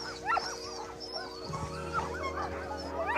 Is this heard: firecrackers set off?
no